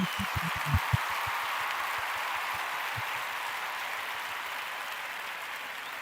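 A church congregation at a Pentecost Sunday service claps in acclamation of Jesus, a steady wash of distant applause with a few louder, closer claps early on, and no voices.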